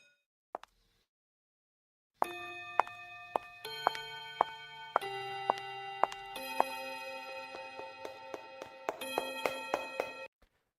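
Bright bell chimes from a Precure anime episode ring out after a couple of faint clicks and a brief quiet, then ring on in a rapid, tinkling run of layered tones, some struck harder than others, until they stop near the end.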